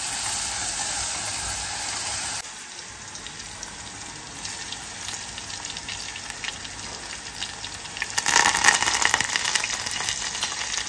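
Oil heats in a cooking pot for a Konkani-style pomfret gravy, giving a steady close hiss and sizzle that swells louder and rougher near the end, with no voices.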